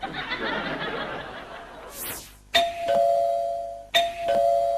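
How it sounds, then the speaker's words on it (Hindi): Two sharp electronic doorbell chimes ring out a little over a second apart, each tone ringing on after a muffled chuckle. "घंटी बजते हुए बहुत देर हो रही है"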